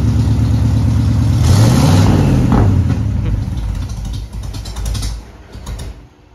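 A Ford F100 barnfind truck with a glass pack exhaust revs up loudly, the engine pitch rising and falling once before settling to a rougher idle that fades and sputters near the end.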